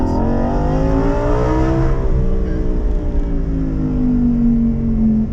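A Lamborghini Huracan EVO Spyder engine revs up and accelerates on a race track, its pitch climbing and sweeping steadily, loud and close throughout with no talking.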